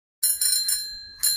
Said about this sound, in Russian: Велосипед.